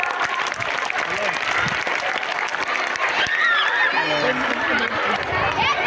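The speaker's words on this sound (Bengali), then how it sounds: "মেয়েরা জোরে হাততালি দাও, জোরে হাততালি দাও" Schoolgirls applauding at a prize-giving during annual sports at Arambagh Girls High School, broadband clapping sustained throughout, with voices and crowd chatter mixed in.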